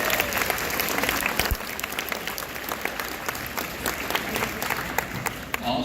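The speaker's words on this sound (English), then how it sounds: "Let's give her a round of applause." A school audience's round of applause at a celebration assembly, sustained dense clapping from a crowd with a few sharper individual claps standing out, steady and loud throughout.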